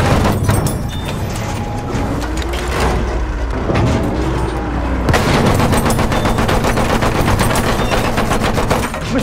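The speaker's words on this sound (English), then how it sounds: "There, enemy machine gun." An enemy machine gun firing in Battlefield 1, long rattling bursts of rapid shots over a rumbling battlefield, with a brief lull before the fire resumes even harder.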